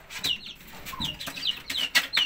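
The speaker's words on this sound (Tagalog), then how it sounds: "Matataas lumipad yung mga sisiw natin, lalo na pag nag-mature na yan." Young chickens give high, thin descending chirps, several peeping in quick succession close by and moderately loud, with some soft flutter and no talk.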